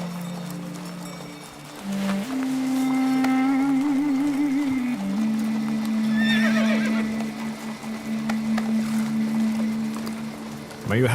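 Horses of a departing caravan neigh and whinny in a drawn-out call, with faint hoof clip-clop under a steady tonal drone and voices in the background.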